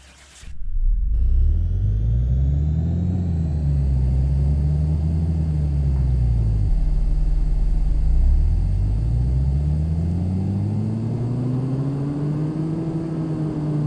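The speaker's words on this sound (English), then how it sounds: "we want to proceed and we want to run the dyno." A 1965 Austin Mini Cooper engine in a car mechanic game revs on a dyno, rising and falling through loud sweeping engine tones in repeated pulls, close and steady, with no talk.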